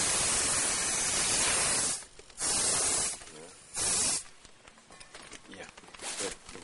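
Oxygen gas hisses loudly from a hose into a nylon fish transport bag in three close bursts, stopping between them, with people talking afterward.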